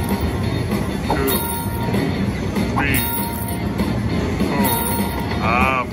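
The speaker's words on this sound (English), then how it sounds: "Oh, gold train has come." A train arrives in the Cash Express slot video game with a steady rumbling roll, brief squeals and repeated rising chime flourishes, loud and continuous throughout.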